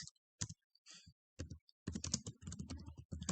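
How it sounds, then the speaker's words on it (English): Quiet keys clatter on a computer keyboard, a few isolated taps followed by a faster run of typing, close and soft. "Suppose I'm typing my address"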